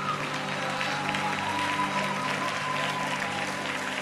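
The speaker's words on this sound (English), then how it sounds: "give the Lord a clap quickly" A church congregation claps together during a lively worship service, producing a steady, dense wash of applause with a faint sustained tone and some crowd noise underneath throughout.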